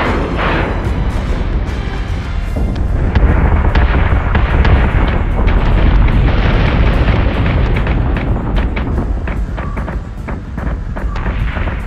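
Continuous barrage of explosions and heavy weapons fire from warships in the space combat game Battlestar Galactica Deadlock, dense booming impacts and bursts layered over a low rumble throughout, loud and sustained with no talk.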